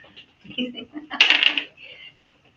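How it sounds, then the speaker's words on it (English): Dice clatter and tumble briefly across a table during a game, a sharp rattling burst with light clicks before and after, heard close. "So one of you roll the dice."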